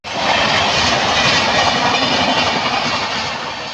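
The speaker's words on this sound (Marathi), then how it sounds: "नंतर आली दुसरी ट्रेन, तुम्ही बघू." A train passes right by a level crossing, filling the whole stretch with a loud, continuous roar and clattering rumble from start to finish, with no voices.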